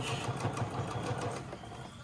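A sewing machine runs a seam around the edge of the fabric, a steady rapid mechanical whir with a regular stitching pulse, close and moderately loud, with no voices.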